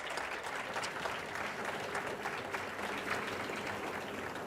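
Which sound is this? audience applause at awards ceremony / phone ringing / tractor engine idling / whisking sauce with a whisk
audience applause at awards ceremony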